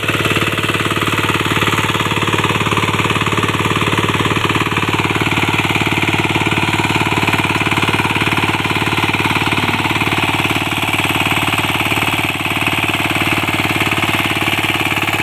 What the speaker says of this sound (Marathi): आमचा संदेश हा अतिशय सुंदररित्या हा पॉवर टिलर चालवतो.